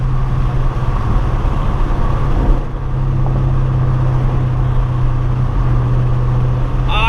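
A Ford Mustang drones steadily under load during a close street race against a Fiesta ST, a loud continuous in-cabin engine note with a brief dip around a gear change partway through.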